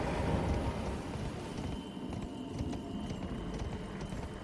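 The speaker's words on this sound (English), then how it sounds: "I can ride my horse here." Horse hooves clip-clopping while riding in the game Elden Ring, a steady patter of soft hoofbeats under a rumbling, rain-like ambient wash, moderately faint.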